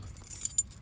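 Keys to a 1969 Chevrolet Camaro jangle briefly at close range, a light metallic clinking in a short quiet moment with no talking.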